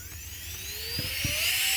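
A rotary tool fitted with a 1/16 inch diamond deburring ball bit on a 3/32 shaft, used for stippling, gives a steady high whine that rises slowly in pitch, heard up close, with a couple of brief low thumps.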